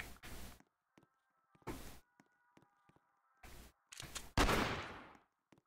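Gunfire in the game Headcrab Infection: several short sharp bursts of shots separated by silences, with a louder, longer blast near the end and a faint radio hum between shots.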